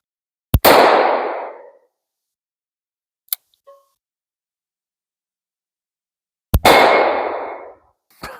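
Two loud, sharp Ruger Blackhawk .357 Magnum revolver shots about six seconds apart, each cracking and then echoing briefly; a small metallic clink of a steel target sounds between them, with no talking.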